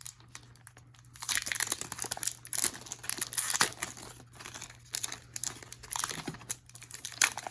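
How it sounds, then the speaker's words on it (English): Plastic wrapping crinkles and tears as it is pulled off a new pair of SteelSeries Arctis 1 headphones, close and fairly loud, in irregular bursts of rustling with brief pauses and no talking. "let me get the plastic off of these"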